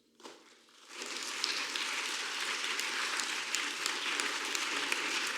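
In a conference hall during a talk on secularism in French secondary schools, an audience breaks into applause after a short sharp sound, then keeps up an even, moderately distant clatter of many hands.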